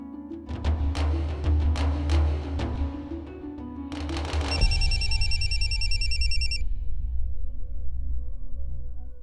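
A telephone rings indoors in a Hindi-language TV drama household, a loud bright electronic ring repeating steadily over a low musical or ambient bed, then continuing as a high tonal trill for several seconds without speech.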